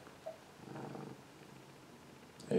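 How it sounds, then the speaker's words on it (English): A pet cat purrs softly and close by in a low, brief rumble, with a louder rustle or bump near the end. "here's my cat"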